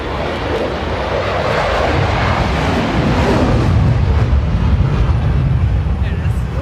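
Aircraft flying overhead at the Oshkosh air show near the Boeing Plaza ramp, a loud, steady engine roar that swells over several seconds amid wind buffeting on the microphone.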